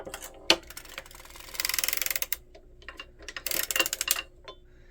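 An Erlbach circular sock knitting machine is hand-cranked close by, giving two bursts of rapid, even ratcheting clicks separated by a sharp knock and lighter scattered ticks.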